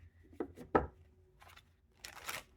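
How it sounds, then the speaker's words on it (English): Tarot cards being shuffled by hand during a reading, giving a few short papery riffles and slaps, followed by a brighter rustling burst of cards near the end, close and fairly quiet. "I really do know how to shuffle cards."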